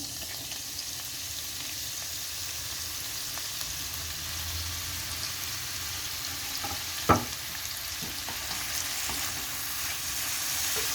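Oyster mushrooms fry in a pan as they are stirred, a soft, even sizzling hiss throughout, with one sharp clack of a utensil partway through.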